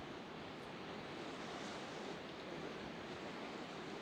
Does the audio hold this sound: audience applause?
no